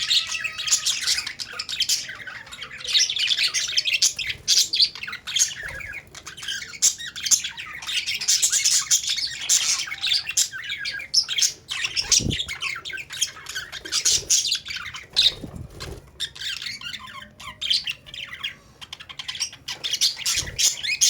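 Australian parrots in a cage squawk and chirp in frequent bursts, some harsh, some quick and tweeting, with faint rustles and wing movement between calls, close and without speech.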